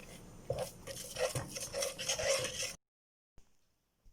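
A spoon stirs sugar into an apple mixture in a pan, a close run of scraping and clinking strokes for under three seconds, then near silence with a couple of faint taps.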